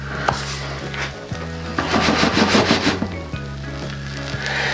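A quesadilla filled with spinach and ham fries in a pan, giving a steady close sizzle with scraping and rubbing sounds. Some short clacks and knocks come through, and no one speaks.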